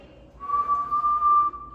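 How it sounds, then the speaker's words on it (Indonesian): One person whistles a single steady, clear note for about a second, close and fairly loud, with no speech. "Lalu kita minta pasien untuk bersiul."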